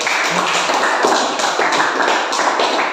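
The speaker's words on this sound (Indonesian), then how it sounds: "Sebelumnya kita beri aplaus dulu kepada kelompok 1." Classroom applause for a student group during a school teaching session: a steady, dense patter of many hands clapping for three seconds, close and loud, with no speech over it.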